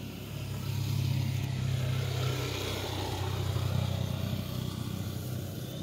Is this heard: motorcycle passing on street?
yes